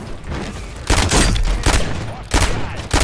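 Rapid bursts of Uzi submachine gun fire in Call of Duty Warzone, loud and close, coming in three or four short volleys separated by brief pauses.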